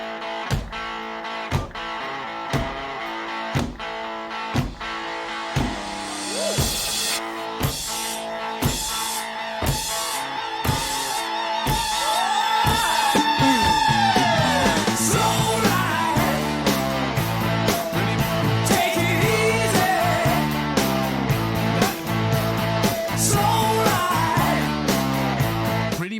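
A 1975 rock song plays loud and continuous, with distorted electric guitar, pounding drums and a steady driving beat building over nearly half a minute.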